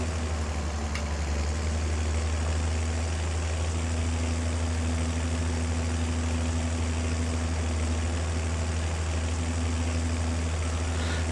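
A tractor in Farming Simulator 22 drones under strain while pulling a filling wagon, a steady low engine hum with a faint mid-range tone that fades out and returns.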